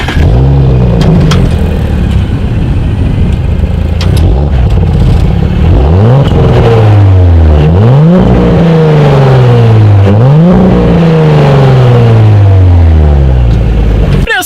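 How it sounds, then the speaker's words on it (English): A 2018 Audi S5 with quad exhaust outlets starts, then revs loudly several times in rising and falling sweeps, its engine note close and alone with no talk. "Here is that exhaust clip."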